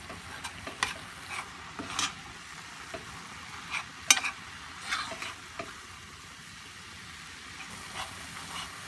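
Ground meat for stroganoff sizzles softly in a pan while a utensil stirs and scrapes it, quiet frying with intermittent clicks and scrapes.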